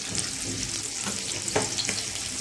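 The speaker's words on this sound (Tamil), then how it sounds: "எண்ணெய் பொரிஞ்சதும் எண்ணெய் காஞ்சிச்சு." Oil sizzles and spits steadily in a kadai on the stove, a continuous close frying hiss with occasional louder pops and crackles, no voices.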